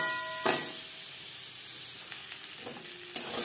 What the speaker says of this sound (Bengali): আলু হালকা করে ভাজা হয়ে গেছে।